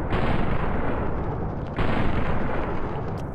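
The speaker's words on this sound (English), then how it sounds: "I do need to try to shoot you" Gunfire in Fallout: New Vegas crackles as a dense, loud, continuous burst with a sharp renewed blast midway, heard alone without any talk over it.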